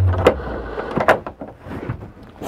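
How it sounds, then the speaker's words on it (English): Sliding pocket doors being moved inside a 2002 Keystone Montana RV bedroom, with a couple of short rolling thumps and knocks, close and moderately loud. "We got the two sliding pocket doors."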